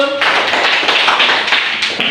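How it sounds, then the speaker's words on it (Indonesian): Schoolchildren in a classroom clapping their hands together, a loud, close burst of fast crisp claps that runs steadily for about two seconds. "Baik, tepuk tangan dulu."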